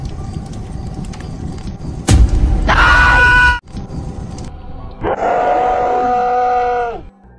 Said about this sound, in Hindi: जिसके बाद इस बंदे की चीखें निकल जाती हैं